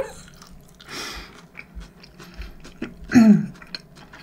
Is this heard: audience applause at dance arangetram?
no